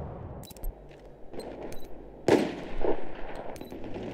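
Sniper rifle gunfire in the video game Battlefield 4 on the Shanghai map, with a sharp loud shot followed by a second report and scattered distant battle noise in the background.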